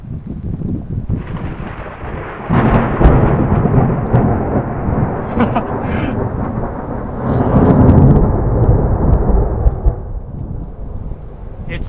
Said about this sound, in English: It's thundering, it's lightning, it's crashing